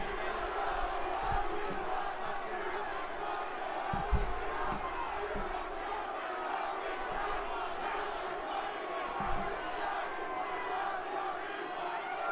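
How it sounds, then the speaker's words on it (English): Crowd at a WWE WrestleMania 40 Kickoff press conference chanting "We want Cody", a steady broad roar of many voices with occasional louder shouts and thumps, continuous throughout. "There's a "We Want Cody." There it is."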